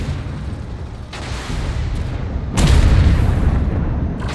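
Tank cannon fire in the Armored Warfare combat game: a heavy, loud boom bursts out midway, preceded by a softer thud and a rumbling engine-like background, with the blast's low rumble lingering afterward.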